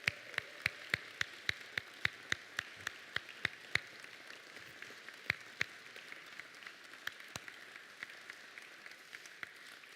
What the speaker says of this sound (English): Can we give them one more round of applause as an entirety?